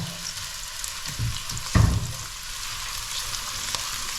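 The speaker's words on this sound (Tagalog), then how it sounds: "Ginisang bawang, sibuyas, at saka luya." Garlic, onion and lots of ginger sauté in a hot pan, making a steady soft sizzle with a brief louder burst of frying as ingredients are stirred, close and on their own.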